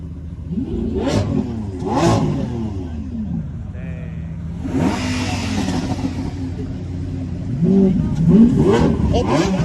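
Lamborghini supercar engine revved loudly several times, each blip surging and dropping back to a rumbling idle, close by, with voices of onlookers talking between the revs.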